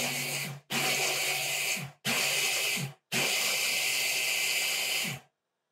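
A blender grinds half a cup of oat flakes in loud, steady bursts, four runs separated by brief pauses, with the motor pitch dipping as each run ends.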